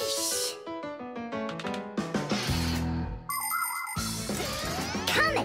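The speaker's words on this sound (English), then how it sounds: "Come and check out our Fixie ringtone." A bright cartoon ringtone for the Fixies plays as a quick run of chiming bell-like notes, then a brief pause and a sparkling, jingling flourish, loud and close with no talking.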